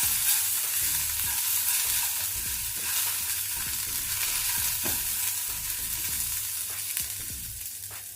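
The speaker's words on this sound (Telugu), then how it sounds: "ఇందులోనే ఒక గుప్పెడు కరివేపాకు, మీడియం ఫ్లేమ్లో పెట్టి వేయించుకోవాలి." A handful of curry leaves fries in a pan over a medium flame while making a corn and garlic chili powder, giving a steady, close sizzle with faint stirring scrapes and no talk.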